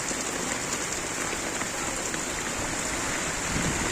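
Heavy rain pours down in a continuous, loud roar of drops striking surfaces, unbroken throughout with no talking, during windy morning weather by a riverside embankment in Kamrangirchar.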